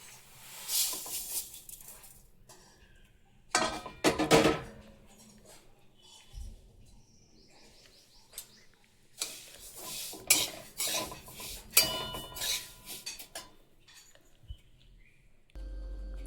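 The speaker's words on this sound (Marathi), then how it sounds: "आता आपण ते कढईत भाजून" Sesame seeds dry-roasting in a kadhai are stirred in bursts, with dense rattling scrapes and utensil clinks that come and go between quiet pauses, close and moderately loud.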